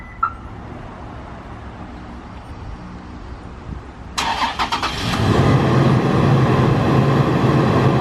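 An idling hum gives way to the mechanical whir and clicks of a Toyota 4Runner's power side mirrors unfolding, then the engine starts and settles into a steady, loud running rumble.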